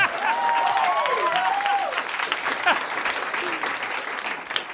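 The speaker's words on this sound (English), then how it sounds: "he gets applause for his GM solo" A live audience breaks into steady, full applause lasting several seconds, with scattered cheers and whoops mixed into the clapping.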